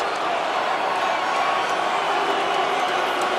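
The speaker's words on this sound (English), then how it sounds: "listen to these Blackhawks fans" Blackhawks fans in an arena crowd at the 2023 NHL Draft make a dense, continuous roar of cheering and shouting that fills the whole moment without a break.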